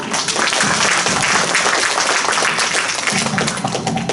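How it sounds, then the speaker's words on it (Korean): A crowd claps steadily in dense applause at a Korean art song concert, filling the room without pause from start to finish. "큰 박수 부탁드립니다."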